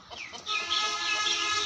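A black and red rooster at a village chicken shop gives raspy, drawn-out clucking calls close by, with steady background noise and no talk.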